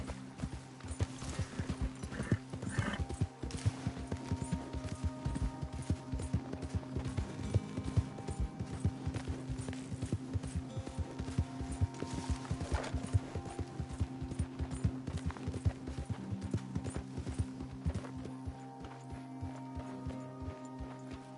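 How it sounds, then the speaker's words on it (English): Hooves of a horse in Red Dead Redemption 2 clip-clopping steadily at a walk for about twenty seconds, close and continuous, with a low background hum and occasional brief snorts. "Arthur, get that horse out of here."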